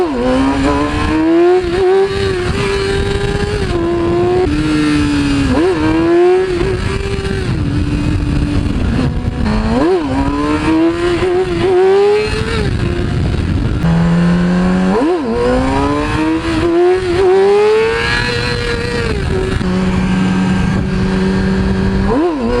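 A motorcycle engine revs hard and loud through repeated throttle blips and rising, falling pitch during wheelies, continuous and close with no talking.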